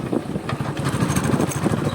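A motorcycle engine running in fourth gear at low speed, knocking with a steady rough low-pitched chug, close and continuous throughout.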